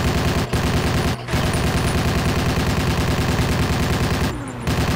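Dense, continuous gunfire in the Battlefield Yugoslavia video game, overlapping rapid shots forming a loud, sustained barrage with only brief dips throughout.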